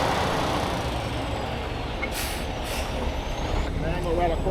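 A Sumter Wrecker tow truck maneuvers beside a swamp with its engine rumbling, and short sharp hisses of air brakes cut through twice. A voice talks faintly under the steady truck noise.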